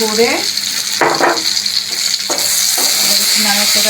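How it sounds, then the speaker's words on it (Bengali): Turmeric powder being stirred into a curry frying in a pan for a Bengali lunch with mocha and mustard dishes, giving a steady close sizzle with a few louder bursts of scraping and stirring, and no talking. "এবার দিয়ে দিচ্ছি হলুদ গুঁড়ো। এবার একটু নাড়াচাড়া"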